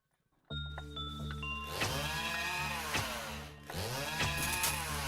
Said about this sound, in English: Don't love the sound of all those chainsaws going off.